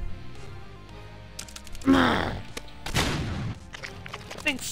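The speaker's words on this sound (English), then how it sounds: "That thing sounds like a machine gun's death" Rapid machine-gun-like rattling from a hazard in Super Meat Boy, with bursts of clattering impacts, a loud swell near the middle and another burst about a second later, over a busy game background.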